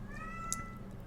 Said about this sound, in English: Sorry if you hear a cat meowing.